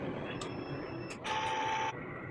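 Steady mechanical whirring of a DTF printer running a head cleaning, with a louder motorized hum and a sustained tone rising briefly in the middle before settling back.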